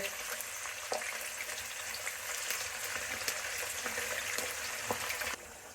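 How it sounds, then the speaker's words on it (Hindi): Boneless chicken pasanda pieces frying in oil, a dense continuous crackling sizzle with occasional light pops and clinks, fairly quiet throughout. "इसको अब हम उसी ऑयल में फ्राई कर लेंगे, इस तरीके से।"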